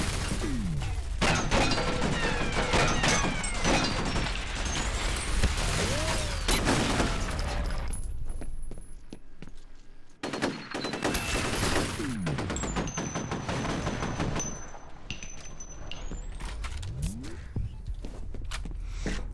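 Turret gunfire in the F.E.A.R. Perseus Mandate shooter game, loud sustained bursts of rapid automatic fire with shattering impacts, broken by a short lull in the middle before the firing resumes.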